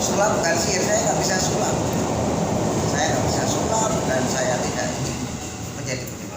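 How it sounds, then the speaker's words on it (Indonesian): A continuous low rumble of a train rolling past, steady and loud, with someone talking over it the whole time. "Itu suara kereta api, saudara, ya."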